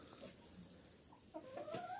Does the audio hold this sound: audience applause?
no